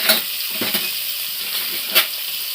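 Prawns fry in hot oil in a home kitchen, a loud, continuous hissing sizzle with occasional sharper spatters and stir knocks, nearby and with no talking.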